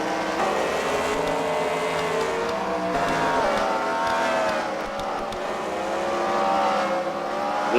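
Race car engines roar through a racing league final round at The Freedom Factory, a continuous loud buzzing drone with shifting pitch as cars pass, no talk over it.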